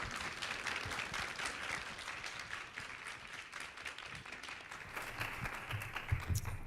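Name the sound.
audience applause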